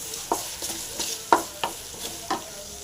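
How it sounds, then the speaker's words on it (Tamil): Brinjal fries in a pan with steady soft sizzling. A spoon or spatula scrapes and stirs it in a string of quick, close clinks and scrapes, with no talk. "நல்லா ஃப்ரை ஆகட்டும்"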